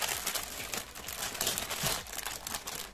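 Plastic bags from a LEGO Speed Champions Chevrolet Corvette set (76903) being handled close up, a continuous, busy crinkling and rustling with quick sharp crackles and no talk.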